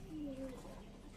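A highflyer pigeon kept for tournament flying gives one short, quiet coo, a soft low rolling note heard faintly over a dull background.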